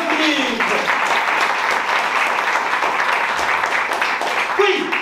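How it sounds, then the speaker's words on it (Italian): A theatre audience applauds steadily throughout, a dense, loud wash of clapping that holds level from start to finish, with a voice briefly audible over it at the beginning and again near the end. "il gentile pubblico, sempre pronto ad applaudire"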